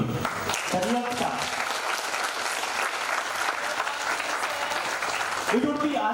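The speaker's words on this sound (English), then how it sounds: "A great applause goes once again to the real star." An audience breaks into steady, full applause filling the room for several seconds, with brief voices rising over the clapping at the start and again near the end.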